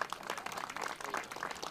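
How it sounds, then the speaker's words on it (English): A small crowd at a West Roxbury coffee hour claps for the mayor and a state representative, brief and faint scattered applause. "How about a big round of applause for the mayor and Rep."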